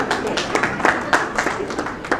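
An audience at a Tamil literary festival hall claps in a brief, scattered burst of applause, uneven individual claps overlapping with a murmur of voices.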